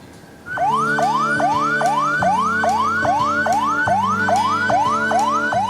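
An ambulance siren in Semarang wails in a fast, repeating rising sweep, about two cycles per second, loud and close with a steady engine hum underneath and no voices.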